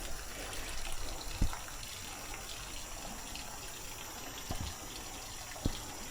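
Water flowing steadily along an irrigation channel beside a jungle trekking path at a camp, a continuous broad rushing wash with a few faint knocks and no talk.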